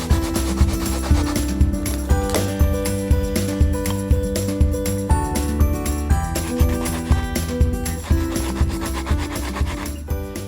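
Light hand sanding along a guitar soundhole binding makes a steady rhythmic rasping, stroke after stroke, close and fairly loud throughout with no talking.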